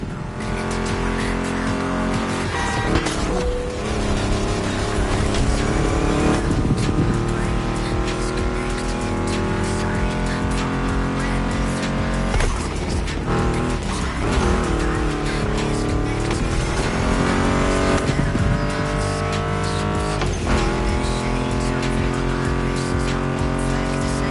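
Roaring muscle-car engines, including a Mustang GT, and squealing tires in a video game fill the whole stretch, rising and falling in pitch, mixed with loud driving music.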